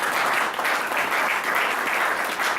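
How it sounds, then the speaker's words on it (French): Church congregation applauding during a sermon: a dense, steady wash of clapping that stays loud and even for about three seconds, with no voice over it. "Acclame Jésus"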